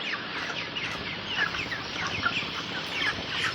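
A flock of broiler chickens in a poultry shed clucks continuously, many overlapping soft calls forming a steady, moderately loud murmur with no talking.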